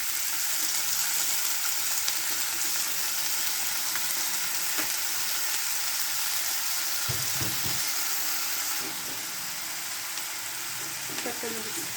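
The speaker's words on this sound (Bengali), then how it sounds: "আজকে আমি গাজর ভাজতেছি, গাজরটা ভাজবো" Carrots and onion frying in a pan, with a steady, loud, continuous sizzle throughout and a few soft clinks of stirring near the end.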